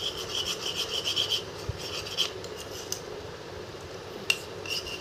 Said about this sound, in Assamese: এতিয়া মই গোটেই পেকটো ভালদৰে এনেদৰে মিলাই ল'ম